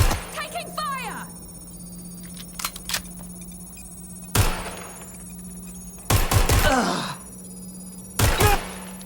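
Scattered gunshots in Watch Dogs Legion: a few sharp, loud cracks and short bursts spaced several seconds apart, with voices and game sounds in between.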